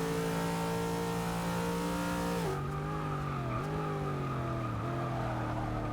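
A Subaru 22B's engine drones loudly and continuously in a Forza 6 Class B race, holding a steady high pitch before dipping and climbing through gear changes, with a faint tire squeal.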